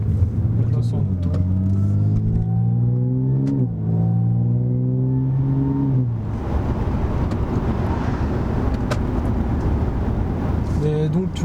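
Supercharged Audi S4 V6T accelerating in automatic mode, engine note rising in steady harmonic sweeps through shifts before settling into a broad, loud roar with road and wind noise; people talk over it.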